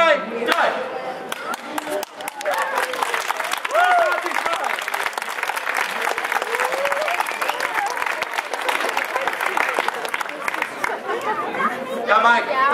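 A street-festival crowd at an outdoor stage show applauds a performer, sustained mixed clapping with crowd chatter and a presenter's voice over it, continuing for several seconds.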